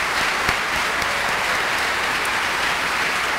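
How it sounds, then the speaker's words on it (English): A large crowd at a climate event applauds loudly and steadily, a dense, even wash of clapping throughout with no voices on top. "So we owe them a big round of applause."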